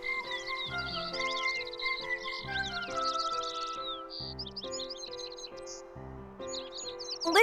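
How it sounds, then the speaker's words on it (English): Birds chirp and tweet in Kingdom Hearts III over a soft musical backdrop, the bright calls coming in repeated quick bursts, close and clear, with no talk. "I've never seen a bird like you."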